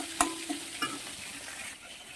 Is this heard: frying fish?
yes